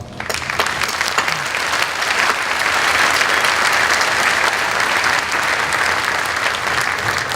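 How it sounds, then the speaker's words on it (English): Graduation audience giving a sustained round of applause for a retiring staff member, a broad, even wash of many hands clapping at steady loudness throughout, with no talk over it. "And I ask all of us to celebrate her coming retirement with a round of applause."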